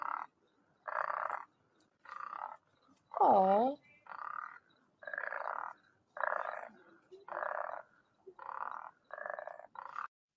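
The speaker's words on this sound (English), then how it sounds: "What is that? Oh, a frog?" A frog croaks in a steady series of about eleven short, evenly spaced calls, fairly faint and close. One person gives a brief soft exclamation between the croaks.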